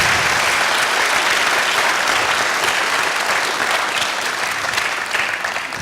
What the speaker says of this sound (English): who merits our praise and applause, Mr. Richard B. Haydock